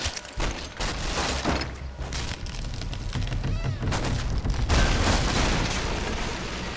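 Gunfire rings out in the 2013 Tomb Raider video game, with a rapid run of sharp shots and booms over a busy game soundscape, close and fairly loud.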